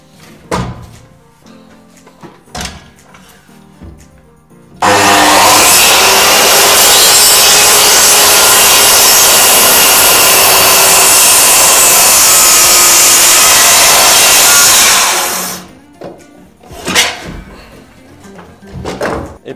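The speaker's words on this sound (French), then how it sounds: "nous allons procéder au sciage" Wood being sawed in one loud, continuous rasping run of about ten seconds, with quieter knocks and handling noises before and after.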